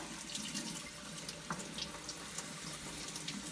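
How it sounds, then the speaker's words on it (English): Water runs steadily from a tap while butchered chickens are rinsed in a sink, a constant close splashing stream with no talking. "And I want to rinse them really good because we did kind of mess up."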